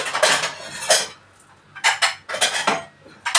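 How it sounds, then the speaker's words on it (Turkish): Dinner plates clatter and clink as they are taken out in a home kitchen, several bright ceramic knocks in two bursts with a short quiet gap between them, close and fairly loud. "yemek tabağı çıkarıyorum"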